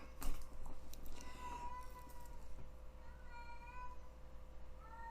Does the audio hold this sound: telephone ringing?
no